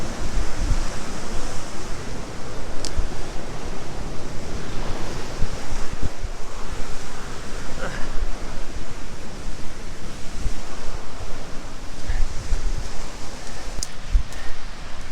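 The constant rushing roar of Kuruderе Waterfall in Sakarya, Turkey fills the scene, loud and steady with no break or voices.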